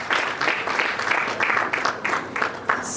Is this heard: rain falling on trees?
no